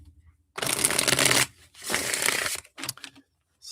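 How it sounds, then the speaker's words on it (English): Cards shuffled for a tarot-style reading, several dense riffling bursts of papery clatter separated by short pauses, close and loud with no talk. "So let's shuffle one more time."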